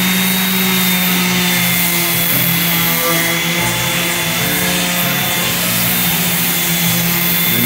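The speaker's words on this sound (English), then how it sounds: "So what I'm doing is I'm sanding with 120" A flap disc on a power sander grinds steadily across an ambrosia (wormy maple) bed board at 120 grit, a loud, continuous abrasive whir with a constant motor hum and no pauses.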